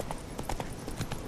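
Horse hooves clip-clopping at a gallop in the video game The Witcher 3, a quick, rhythmic run of hoof beats heard up close over a busy game soundscape.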